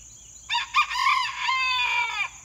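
A rooster crows nearby in a long, loud call, with a couple of short clucks mixed in at the start.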